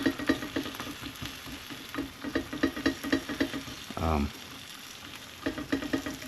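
Bread soaked in egg sizzles and crackles in a hot frying pan as it is pressed down, a close, busy patter of spitting pops with a brief louder scrape partway through.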